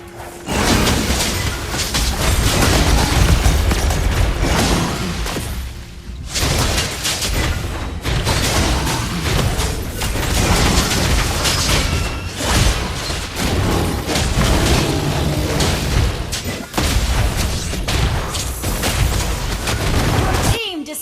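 Turret-destruction explosion in the Mobile Legends mobile game, booming and shattering blasts layered into a dense, loud, continuous wash of battle effects that runs almost the whole time, with only brief dips, under an announcer voice.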